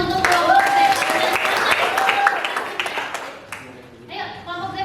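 A classroom of students claps for a student group, with scattered hand claps running under children's chatter and voices, then fading briefly before talk resumes.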